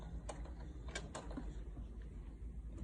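Sewing machine stitching a fabric placemat, running a few forward stitches and then reversing, with a steady mechanical whir and faint clicking pulses under a constant low hum.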